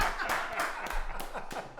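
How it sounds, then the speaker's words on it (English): Podcast guests clap close by, with several sharp claps in an uneven rhythm over a brief stretch and no talking. "Let's give Fred a round of applause."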